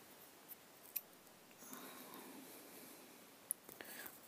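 Scissors snip through paper for a handmade scrapbooking paper flower, a few quiet, close crisp cuts over soft room hiss.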